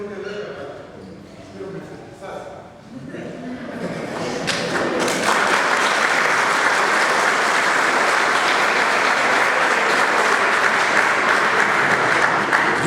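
A church congregation bursts into applause during a homily, dense loud clapping that builds after a few seconds of quieter sounds and holds steady to the end.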